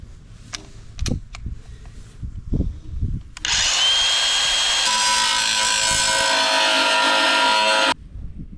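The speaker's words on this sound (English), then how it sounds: "So I'm gonna take my grinder and just very carefully notch along that metal and try not to go all the way through your oil pan." A grinder notches the metal around the oil pan of a Jeep Cherokee XJ. After a few clanks and knocks, it whines loudly and steadily for about four seconds close by, then stops abruptly.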